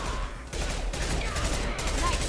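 A steady, loud stream of overlapping gunfire from the video game Mass Effect 2, forming a dense fusillade with a few sharper bursts, and no clear gaps throughout.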